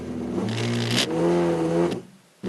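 A hoverboard motor running rough with faulty hall sensor synchronisation gives a loud, close growling hum with wavering tones that rise and shift, then cut off briefly before starting again.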